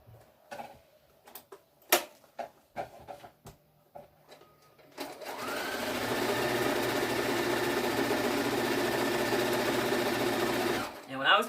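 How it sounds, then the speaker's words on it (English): A sewing machine stitches quilt blocks with a quarter-inch seam, a steady whirring run of about six seconds that follows a stretch of light handling clicks and taps. "Using a 1/4" seam, to sew the blocks together"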